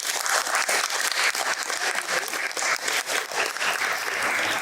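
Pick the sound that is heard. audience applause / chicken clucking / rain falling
audience applause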